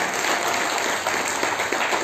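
A church congregation claps together, a dense steady wash of applause filling the room for the whole moment with no voices.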